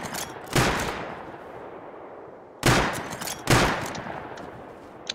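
Three loud, close gunshots in Rust, each a sharp crack followed by a long fading echo, spaced about a second or two apart with no talk.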